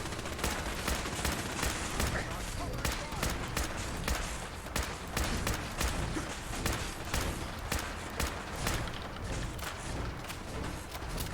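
Dense, continuous gunfire from a Fallout 4 firefight, with rapid overlapping shots and bursts crackling nonstop across the whole stretch, loud and busy with no clear pauses.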